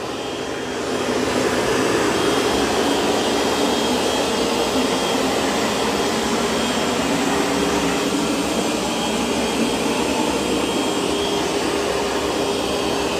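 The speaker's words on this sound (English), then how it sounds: "it'll stop the vacuum and just mop that area." A Roborock robot vacuum's steady, loud whirring motor drones on without pause, a constant vacuum hum with a faint brushing hiss and no talking.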